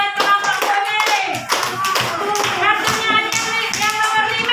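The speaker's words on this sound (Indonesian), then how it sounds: "Iya, tepuk tangan buat kelompok pemilih." A classroom group claps together in a rapid, lively patter of hands, loud and close, joined by a rhythmic sung chant of young voices.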